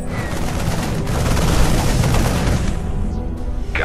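A StarCraft 2 Wings of Liberty base under attack, with a dense, continuous barrage of gunfire and booming explosions that stays loud and steady throughout, then thins slightly near the end.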